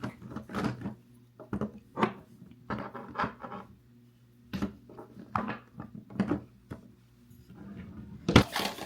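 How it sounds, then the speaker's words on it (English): Skincare items being handled and set into a small drawer, a string of close knocks, clatters and rustles in uneven bursts, ending with a louder bump like the drawer shutting. "I'm gonna put in my little drawer."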